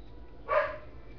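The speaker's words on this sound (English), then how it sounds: "Stupid dogs." A dog gives a single short bark or yip at a distance, a brief burst standing out against low background noise.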